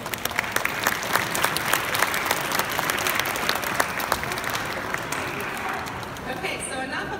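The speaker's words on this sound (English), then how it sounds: "let's give them a round of applause, too" Audience applause at the 2017 Ohio Statehouse tree lighting ceremony, a dense sustained round of clapping from a crowd that holds steady for several seconds before thinning out near the end.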